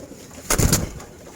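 Army breed pigeon giving a single short, close coo, a soft throaty burst lasting under half a second against a quiet background.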